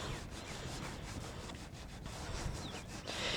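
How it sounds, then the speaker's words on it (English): A damp rag is rubbed steadily over a leather saddle to work in oil, giving a continuous close scrubbing and swishing friction with small rhythmic strokes and no voices. "you're going to start rubbing that in"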